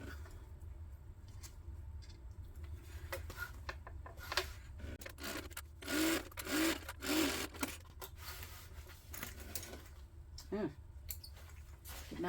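A sewing machine basting fabric for a tote bag, running in several short bursts of rapid stitching with pauses between, quiet and close, with small handling noises around it.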